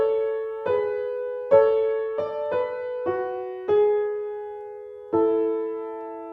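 Sustained notes from a keyboard instrument play a slow two-voice soprano and alto harmony excerpt that includes an escape tone, with about eight separate note onsets ringing out clearly and no talking.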